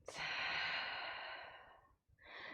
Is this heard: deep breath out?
yes